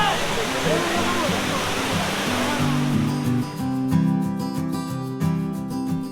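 Steady broadband rush of a waterfall in Bilaichari, Rangamati, loud and continuous, with a low tonal drone and faint voices layered underneath.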